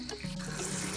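Tap water runs into a sink, splashing steadily over a hairpiece being wetted, close and moderately loud with no talking.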